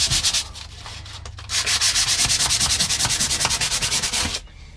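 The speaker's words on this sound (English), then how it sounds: "Next is going to be like just a real fine sandpaper, just to kind of, help roughen it up a little bit" Fine sandpaper is rubbed by hand over a surface in a boat livewell setup, making quick, regular back-and-forth scratchy strokes, close and steady, before stopping abruptly.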